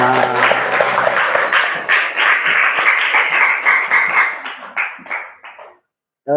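A classroom of students clapping together during a mathematics lesson on linear systems, with dense, overlapping claps over a brief rise of voices. The clapping fades out, then near-silence.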